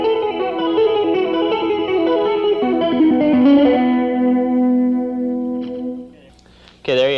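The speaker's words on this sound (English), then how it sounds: "tap other notes with the right hand and get a real chime-like sound" Bright, ringing electric guitar notes tapped in quick succession over a held chord, clean and chiming, with a brief scrape near the end.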